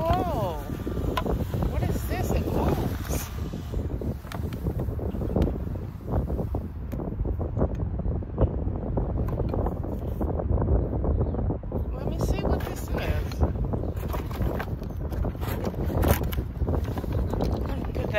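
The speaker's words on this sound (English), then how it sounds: "I hope it's not too windy." Outdoor wind buffets the microphone in gusty, uneven low rumbles, with rustling and handling noises close by and a person talking over it.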